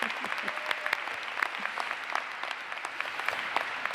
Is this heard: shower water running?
no